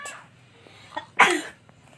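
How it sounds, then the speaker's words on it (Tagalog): A person lets out one sharp, loud cough, a short burst standing above quiet background sound during a casual Minecraft gaming session. "May ubo ka pa eh, no?"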